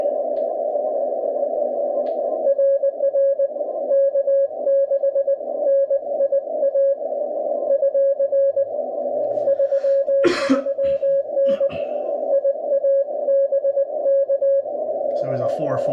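Steady Morse code CW tone from an amateur radio station during park-activation hunting, with a fading, up-and-down signal under band noise and brief bursts of static and other interference.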